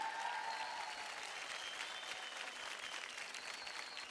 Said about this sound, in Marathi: एकदा जोरदार टाळ्या होऊन जाऊ द्या वेदांगीसाठी